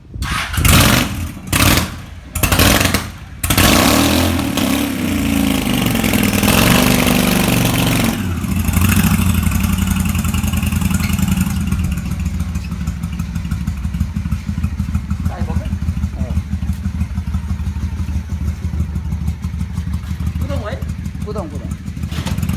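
A motorcycle engine cranks with several short starting bursts, then catches and runs steadily close by at a loud idle, with people talking over it throughout.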